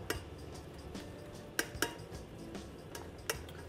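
A small spoon scrapes and clinks against a small pan while flour cooks in butter for a roux, giving sparse metallic taps and light scraping over a quiet background.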